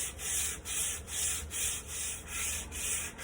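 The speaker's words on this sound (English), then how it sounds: "what happens when you sand, get all this dust flying all over the place" Wood is hand-sanded during guitar building, giving steady rhythmic back-and-forth scratching strokes about every half second, close up and fairly loud.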